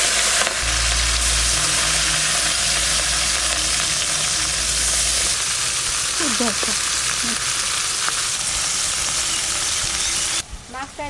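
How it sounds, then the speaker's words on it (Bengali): Morola fish seasoned with salt and turmeric fry in a pan, a loud, unbroken hissing sizzle close by that holds steady for the whole stretch before easing slightly at the very end. "মোরলা মাছটা আমি ভেজে নেব নুন হলুদ দিয়ে দিচ্ছি"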